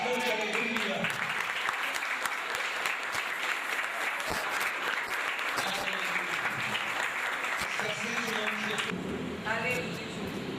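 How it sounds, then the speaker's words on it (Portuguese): A church congregation applauds joyfully after a prayer, with sustained, dense clapping filling the room at steady loudness, and voices mixed in. "aplauda Jesus com bastante alegria."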